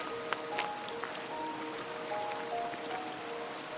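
A rushing creek at night in Yosemite National Park, unseen in the dark, gives a steady, even wash of water that runs throughout with a few faint tonal chirps above it.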